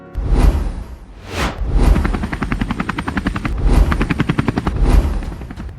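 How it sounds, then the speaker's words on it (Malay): A helicopter in the Roblox game Brookhaven gives a loud, close rotor chop, rising and falling in rapid pulses with whooshing swells as it passes, and no voices. "saya akan guna helikopter ini untuk bawa mereka ke tempat yang selamat"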